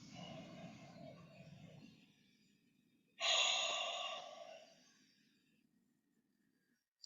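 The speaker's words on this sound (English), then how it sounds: "Take some breaths there." Slow, deep breathing during a qigong side stretch: a long soft exhale fading out, a pause, then a strong audible inhale through the nose that gradually tapers into quiet, close and intimate.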